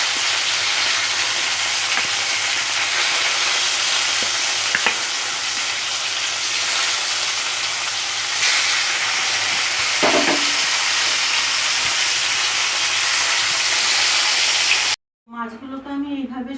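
Pomfret fish pieces frying in hot oil, a loud, continuous hissing sizzle for most of the time, with a few faint clinks, before it cuts off and a voice speaks at the end.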